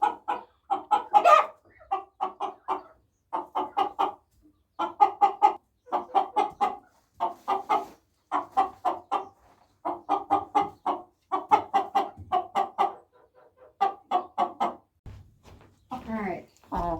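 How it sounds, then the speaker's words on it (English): A young American Bresse rooster with blue feet clucks close by in repeated short bursts of rhythmic clucking with brief pauses, ending in a louder drawn-out call. "This is an American Bresse rooster."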